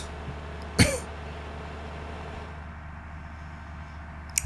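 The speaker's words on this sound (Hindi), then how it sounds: "मेरे को खांसी आ रही है बहुत जोर वाली" A man gives one sharp, close cough, followed near the end by a briefer second one, over a steady low background hum with no talk.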